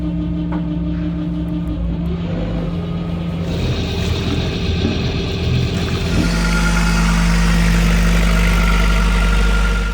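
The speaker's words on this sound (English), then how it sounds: "The engine has been running for 8 hours without any oil in it now, and that's what's created the bad sound." A boat engine runs steadily with a worn, oil-less gearbox leaking badly, giving a loud continuous drone with harsh mechanical whine and grinding that grows rougher and heavier partway through, with no talk.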